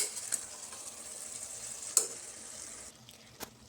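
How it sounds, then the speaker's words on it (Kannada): Chopped cabbage sizzles in hot oil for an Indian cabbage pulao while a utensil stirs it, giving a continuous faint fry hiss with a few light scrapes and clinks against the pan. "ಇದನ್ನು ಒಂದು ಸತಿ ನೀಟಾಗಿ ಮಿಕ್ಸ್ ಮಾಡ್ಕೊಳ್ಳೋಣ ಎಣ್ಣೆಲಿ."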